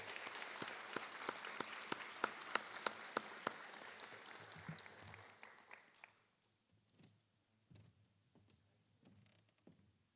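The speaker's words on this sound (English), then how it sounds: "Let's give the ladies a round of applause." Applause from a school board meeting audience honoring all-region and all-state girls basketball players, steady clapping for about six seconds that thins out and fades to a few scattered claps in a quiet room.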